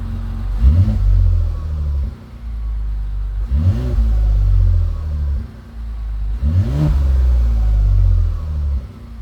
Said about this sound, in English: I'll just do a couple of light revs just because the engine's not warmed up yet